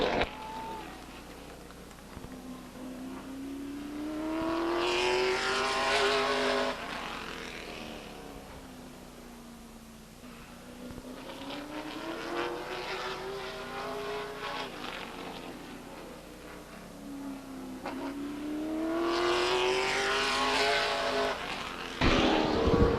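A race car circles Stockton 99 Speedway, its engine rising to a loud, close howl as it passes, fading away, then returning on each lap, three sweeping passes with brief tire squeal.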